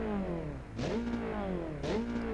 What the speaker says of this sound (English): let's listen to some i4 power.